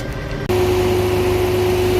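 Tractor engine idling at a refuelling stop, a loud, close, steady low rumble with a constant hum that starts abruptly after a brief quieter moment.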